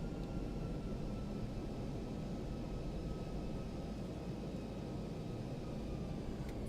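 Airplane engine in the X-Plane 11 flight simulator drones steadily on a Seattle to Portland flight, a constant low rumble with a faint tonal whine, unchanging and fairly quiet throughout.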